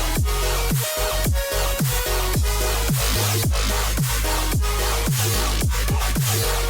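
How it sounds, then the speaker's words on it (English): A glitch hop drop built in FL Studio, with loud repeating kick and snare hits, pitch-dropping bass sweeps and dense synth layers in a steady driving rhythm. "When we repeat this and we add a couple of different things, such as more impact, overall, our drop sounds like this."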